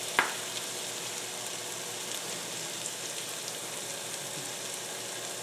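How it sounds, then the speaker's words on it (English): Pieces of potato frying as French fries in a small amount of oil on a stove, a steady soft crackling sizzle throughout after a brief clink at the start. "I got a couple of pieces of potato that I'm going to put in, and you can watch them sizzle"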